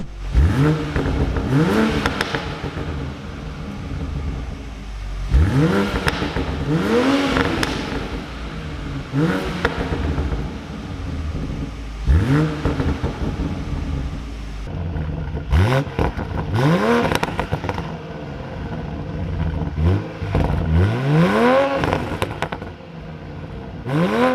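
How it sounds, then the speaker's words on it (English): Toyota Supra with a B58 engine and decat exhaust revs hard again and again, each blip climbing and dropping back in a loud, close series of throttle bursts with crackle between them. "I thought I'd show you what a difference a decat makes on the new Supra."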